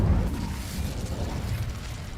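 A fiery spell is cast in a Harry Potter wizarding video game, a dense, rumbling whoosh of flames that roars low and steady for a couple of seconds with no talking.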